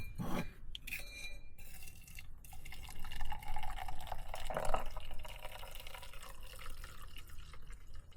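Water pours from a container while camping in a truck in winter, a wet trickling stream after a couple of short clinks, steady and close by, alone without talk.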